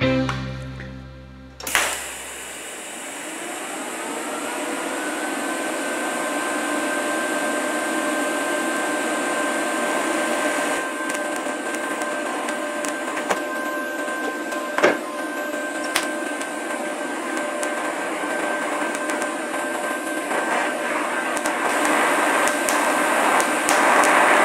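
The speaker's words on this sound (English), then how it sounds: "I've always wanted to do some TIG stuff, and this is a great place to try it." TIG welding on a 1968 Mustang quarter panel extension: a steady electrical hiss with a thin high whine runs for over twenty seconds after a brief start, loud and continuous, with no talk.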